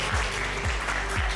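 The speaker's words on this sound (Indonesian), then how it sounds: "Silakan berdiri, tepuk tangan." An audience applauds at an incubation-day team presentation, a brief continuous patter of clapping with low thumps recurring underneath.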